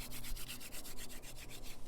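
A wooden hand drill is spun rapidly between the palms on a wooden fireboard, making a fast, rhythmic scratchy rubbing with about a dozen evenly spaced strokes, close and fairly loud, with no talking.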